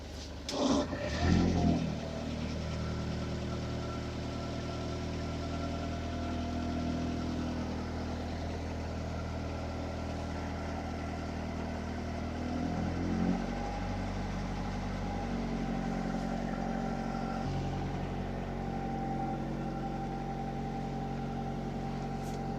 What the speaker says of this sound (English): I'm going to go ahead and throttle it up a little bit, kick it into gear, and let it run and warm up